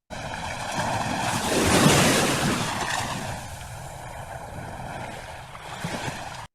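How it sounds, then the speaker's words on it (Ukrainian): Steady rush of sea waves, swelling to a louder surge early on and then settling into a softer, continuous wash with no talking. "І ось у нас шумить море."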